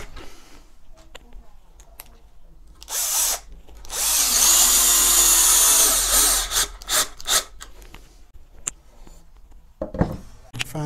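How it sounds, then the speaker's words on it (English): Cordless drill driving 3-inch number 10 screws into wood for a ballet barre in a workshop, heard as two sustained whirring bursts, the longer one steady and loud, between shorter taps and handling knocks, with no talking. "And then I'm using 3-inch 10 screws."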